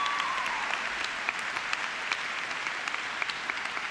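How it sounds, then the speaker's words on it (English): An audience at a college commencement ceremony, Class of 2006, gives a warm round of applause: dense, continuous clapping with a few sharper individual claps standing out near the listener. "Please join me in welcoming Emily with a warm round of applause"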